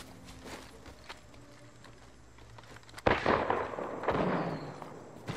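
Gunfire in the battle royale shooter Apex Legends, a sudden loud burst of shots at about three seconds followed by a sustained noisy rattle, after quieter footsteps and ambient game sound.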